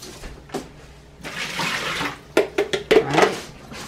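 Water draining from soaked berries strained in a colander, a short gush and trickle followed by several close splashy bursts and patters as the fruit settles, with no one talking.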